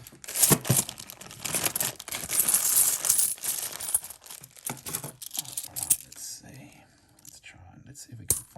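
Australian five-cent coins being sorted and handled, with dense jingling and clinking of small metal coins and rustling of paper rolls, close up, under a quiet voice talking.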